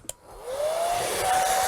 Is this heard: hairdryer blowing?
yes